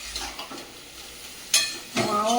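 Okra and prawns frying in a small wok, with soft stirring scrapes early on, then two loud bursts of hissing sizzle as the food hits the hot oil, the second sustained to the end.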